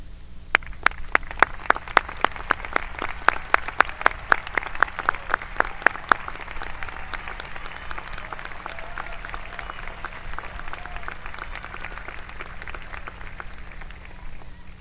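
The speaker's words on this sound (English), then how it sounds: "Please join me in applause" Audience applause for faculty standing to be recognized at a 2023 high school graduation, with a few sharp individual claps up front giving way to a steady, diffuse patter of clapping across a large venue.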